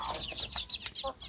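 Free-range village chicks (ayam kampung), now grown fairly large in a wire-fenced rearing pen, peep and chirp in quick high-pitched bursts, several overlapping calls close by and fairly soft.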